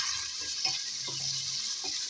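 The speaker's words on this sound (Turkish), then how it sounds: "Onu yağda biraz kavuruyorum" Quiet sizzling of chopped onion frying in oil, with a few soft stirring scrapes and taps over a steady hiss.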